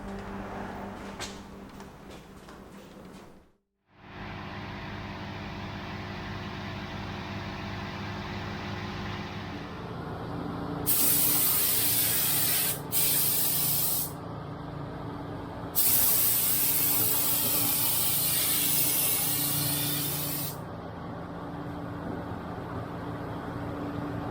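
Long, steady hiss of a spray gun applying high build primer to a 1970s Bedford truck cab, starting and stopping in several bursts over a constant background hum, with no talking.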